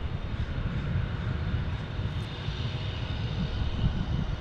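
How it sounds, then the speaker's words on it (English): A Cessna light aircraft takes off from a runway at an airfield, its engine a steady, distant drone that holds level throughout with no voices. "You can see all these Cessnas to the other runway doing takeoffs"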